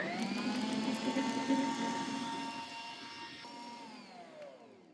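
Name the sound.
stand mixer paddles beating cake icing in bowl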